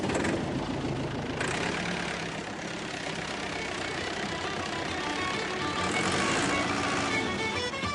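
A four-wheel drive vehicle's engine runs steadily with a low rumbling drone and broadband road noise, holding constant for several seconds without speech.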